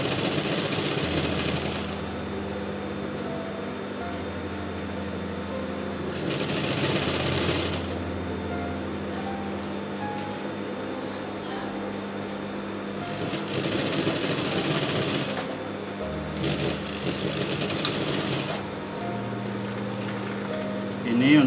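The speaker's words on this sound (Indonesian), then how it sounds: "Jahit sesuai lebihan tadi saat kita potong ya." Sewing machine stitching culottes fabric, running in several bursts of steady whirring separated by pauses, fairly quiet and close, with occasional background sounds between runs.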